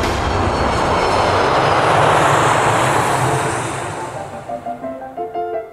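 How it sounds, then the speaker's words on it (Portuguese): Research aircraft cruising over the ocean, a broad steady engine roar that swells and then fades away, ending in faint trailing noise. "aeronaves de pesquisa cruzavam o oceano, monitorando mudanças na direção do vento, na temperatura e na pressão"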